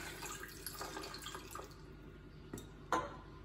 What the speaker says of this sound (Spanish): Bueno, echamos también un chorro de agua.